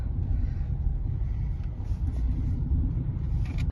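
Steady low engine and road rumble inside a moving car, continuous and fairly loud throughout with no talking.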